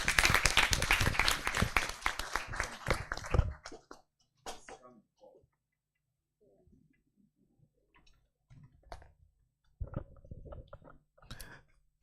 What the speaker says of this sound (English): Dr. Mohammed deserves a better and bigger round of applause